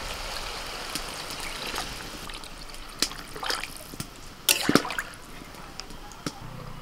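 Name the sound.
water poured into pot of rice for pulao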